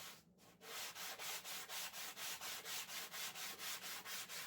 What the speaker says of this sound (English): All of the pieces now get subjected to my arsenal of sandpaper, wire wheel or wire brush, and or polished on the buffing wheel.